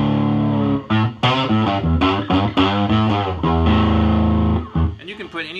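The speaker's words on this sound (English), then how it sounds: "if I add a little bit of distortion on here, we get a little bit more, obviously more volume, but also more sustain" A two-string cigar box diddley bow is played through distortion in short loud riffs, the notes buzzing and sustaining with slides between them, close and alone.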